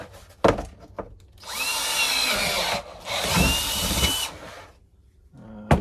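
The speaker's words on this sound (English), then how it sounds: "so I'll drill that out too" A power drill whines through wood of a socket set case in two sustained bursts, loud and close, with a few clunks and knocks before and after.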